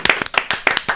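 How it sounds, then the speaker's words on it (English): A small studio audience gives a brief round of claps, a handful of distinct close hand strikes in quick uneven rhythm lasting about a second. "I'd just like to give a round of applause to our resident journalist"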